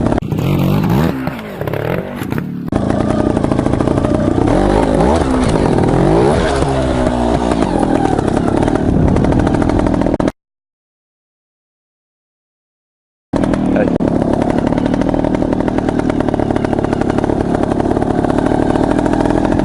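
A trials motorcycle riding over a K-rail concrete barrier, its engine droning and revving loud and close in sustained bursts, with a short silent gap partway through, and no talking.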